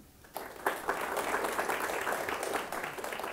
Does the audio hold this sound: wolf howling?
no